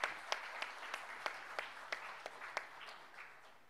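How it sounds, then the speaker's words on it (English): Applause from the audience at the HCL Cyclothon Hyderabad 2024 launch event, a steady patter of many hands with distinct louder claps standing out, moderately close and unbroken by speech. "Let's have a huge round of applause."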